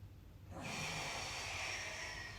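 A single long, soft inhalation during a Pilates exercise, drawn in through the nose with a breathy hiss that swells and holds, heard close and quiet.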